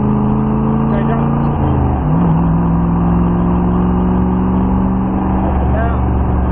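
An AC Cobra V8 engine roars loud and close on a track lap, pitch dropping at a gear change and then building steadily under acceleration, with voices talking inside the car.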